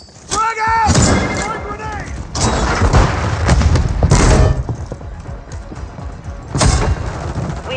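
A frag grenade goes off during Call of Duty Modern Warfare 3 multiplayer gameplay, with a loud booming blast and gunfire bursts, while a voice calls out early on.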